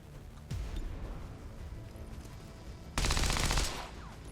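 A gunshot from a gun in XCOM 2 cracks out sharply, followed by a second, louder burst of gunfire near the end, both close and prominent over low game ambience.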